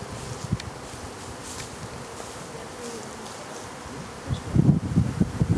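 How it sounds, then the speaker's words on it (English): A honeybee swarm moving into a new home fills the air with a dense, continuous buzzing hum close by, swelling louder with rustling toward the end. "They're all piling in there as"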